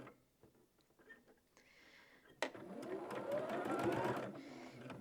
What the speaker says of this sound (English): Now I'm just going to sew all of these.